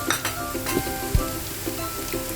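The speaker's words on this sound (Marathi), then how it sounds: "आलं लसूण कांदा अर्धा फ्राय करून झाला आहे गॅस मी स्लो ठेवला आहे" Ginger, garlic and onion fry gently in a pan over a low gas flame for Schezwan sauce, giving a steady close sizzle with soft stirring scrapes and one dull knock.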